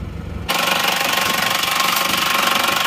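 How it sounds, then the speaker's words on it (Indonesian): An Isuzu Panther engine with its thermostat removed runs steadily after a 3 km drive, giving a loud, continuous knocking diesel-like clatter close by, with no talk over it. "Nah kita akan mengintip sejenak bagaimana mesinnya setelah berjalan 3 km."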